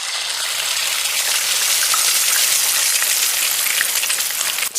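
Eggs and sausages sizzle in a pan on a stovetop, a steady, dense hiss of frying fat that holds close and loud without pause, ending with a brief knock.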